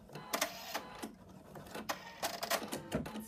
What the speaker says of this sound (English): first the machine is going to stitch the outline again